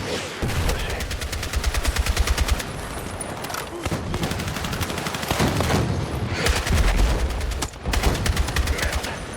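Sustained automatic gunfire in the shooter Battlefield 6, long rapid bursts of machine-gun fire broken by brief pauses, loud and close, with some voices talking under the shooting.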